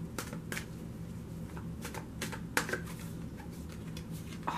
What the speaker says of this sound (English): Oh, you saw me shuffle.